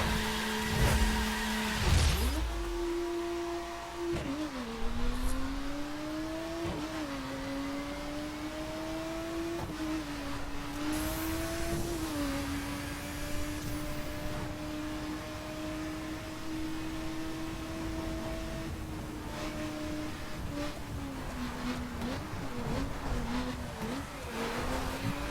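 Aston Martin V12 Zagato engine in The Crew racing game, a continuous loud drone whose pitch climbs and drops through gear changes and throttle shifts, with no talk over it.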